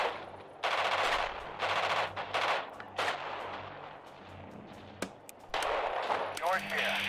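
Heavy gunfire in a Radio General battlefield scenario: loud, sustained bursts of machine-gun and artillery fire crowd together with sharp separate cracks. A voice is heard faintly under the din.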